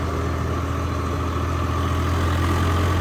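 Swaraj 855 tractor engine idling steadily with a deep low rumble, loud and continuous throughout, no voices present.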